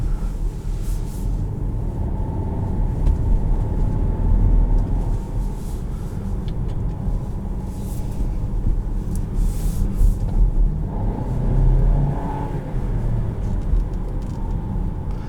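A 2021 Volkswagen Tiguan SEL Premium R-Line SUV accelerates, its engine a low steady rumble from inside the cabin mixed with road noise, swelling gently in a few surges.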